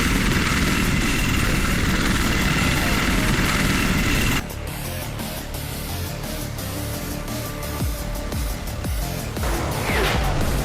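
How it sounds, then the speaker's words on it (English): Recon helicopters arriving in the war game Armored Brigade 2: a loud, dense rotor-and-engine roar fills the first few seconds, then drops to a quieter, steadier drone with faint ticking clicks over it. "My recon helicopters have arrived."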